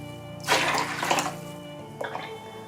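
Soju and water are poured into a container to dissolve salt for a pickle brine, two bursts of splashing liquid, the first longer and heavier, the second brief.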